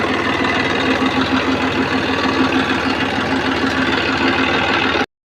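A tractor engine idles close by with a steady, rough, mid-pitched chug that runs unbroken and then stops abruptly at the end.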